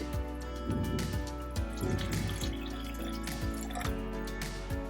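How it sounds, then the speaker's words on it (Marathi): Water splashes and trickles into a pan of cooked spice paste for a patvadi curry in uneven bursts, with drips and gurgles over a steady low hum; no one speaks. "आता आपल्याला हवं तेवढं पाणी टाकायचं"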